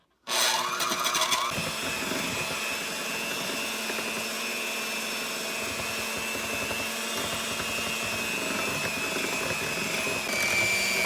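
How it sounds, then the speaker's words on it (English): Electric mixer whipping apple fritter batter with eggs, a steady buzzing whir that switches on abruptly and holds constant throughout, close and loud with no voices. "now I'm going to mix everything together so it's nice and fluffy"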